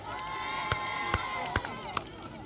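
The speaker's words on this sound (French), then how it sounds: "On applaudit tout le monde" Crowd at the finish of a 1984 town footrace through Propriano, a continuous murmur of cheering and shouting at moderate distance, punctuated by several short sharp claps or shouts.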